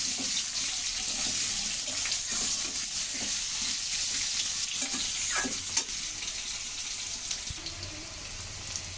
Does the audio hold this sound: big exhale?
no